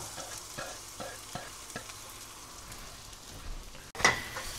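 Garlic frying in a little oil in a pan already used for pork fat, a steady broadband sizzle with a few stirring clicks, then a louder burst of sizzle near the end as more goes in.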